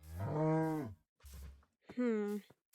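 A cow moos in the Minecraft mod ZooCraft, three loud, close calls: a long low moo, a short grunt, then a higher drawn-out moo, with silence between them.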